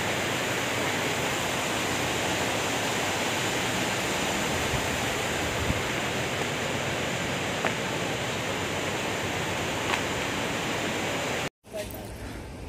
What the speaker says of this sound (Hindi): देखिए झरना है ऊपर की ओर